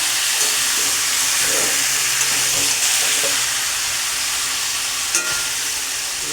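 Marinated potatoes fry in a wok with a loud, continuous sizzling hiss close up, with occasional faint clinks of stirring.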